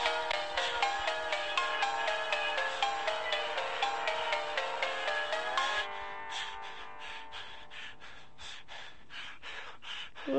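Phone ringtone playing a bright, repeating melodic pattern, steady and fairly loud for about six seconds, then continuing as a thinner, quieter series of tones, with no talk over it.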